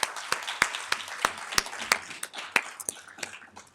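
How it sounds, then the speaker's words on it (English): Sparse clapping from an audience at a public event, heard as a dozen or so distinct, fairly close claps spaced irregularly over a few seconds with no talking. "I think that's worth a round of applause"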